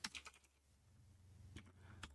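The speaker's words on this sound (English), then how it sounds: "I have a new keyboard. I hope you can hear" Typing on a new computer keyboard, a few close, crisp key clicks in quick bursts at the start and near the end, with a low background hum between them.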